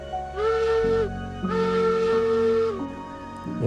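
The steam whistle of the Glenbrook locomotive in the railroad game Railroads Online gives two sustained chord-like blasts, the first short and the second longer, over a low chuffing engine rumble, loud and close.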